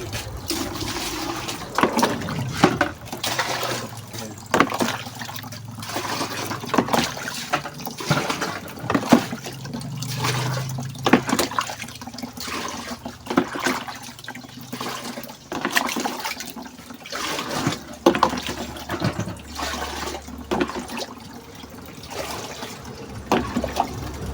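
Water runs into a tub for washing clothes by hand, a continuous splashing, gurgling pour that rises and falls in intensity over about twenty-five seconds, with knocks and handling noises throughout and no talking.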